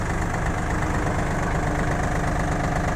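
Three-cylinder diesel engine of a Yanmar F195 tractor idling at close range, a steady low knocking thrum with constant vibration and even loudness throughout, with no voices.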